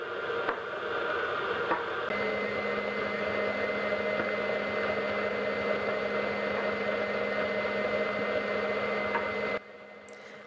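An electric mixer creams butter and sugar for a gluten-free coffee and walnut cake, a steady whirring drone that runs close and unbroken before cutting off abruptly near the end.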